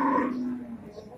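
A cow at a livestock market in Pasar Wage Bumiayu, Brebes, gives a single short low moo, fairly faint, with market noise around it.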